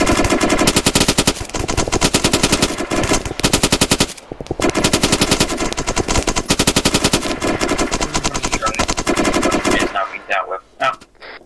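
A GPMG machine gun in the Arma 3 video game fires long sustained bursts, loud and rapid, with brief pauses between strings and scattered distant shots at the end.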